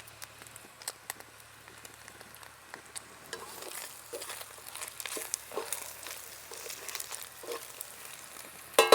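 Green chilies frying in a pan for garlic chicken fry: a soft, steady crackle with scattered pops and light stirring scrapes, growing a little busier toward the end.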